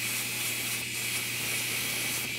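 An airbrush mists bright red craft paint, giving a steady, close, continuous hiss that holds at an even level throughout, with no talking.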